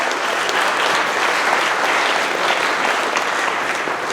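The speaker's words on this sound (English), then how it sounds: "Let's give these guys a round of applause." A room of trucking company employees claps for colleagues' work anniversaries at a monthly celebration, producing loud, sustained, even applause that holds throughout without a break.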